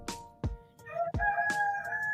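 Several roosters crow outdoors in the morning, one long drawn-out call overlapping shorter ones, fairly close and with no talking.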